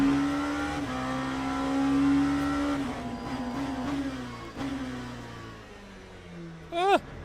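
A race car in the video game Le Mans Ultimate weaving to warm its tyres, the engine droning and shifting pitch steadily, closing with a sharp rising rev near the end.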